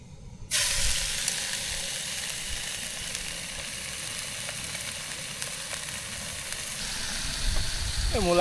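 Food cooks in oil in a pan outdoors at abbey ruins, a steady sizzle and hiss starting abruptly and continuing evenly, close by, with no talking.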